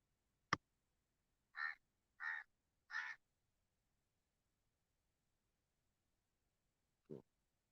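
A crow caws three times in quick succession at sunrise in Kochi, faint and distant in a quiet outdoor setting, with a sharp click before and a single low call a few seconds later.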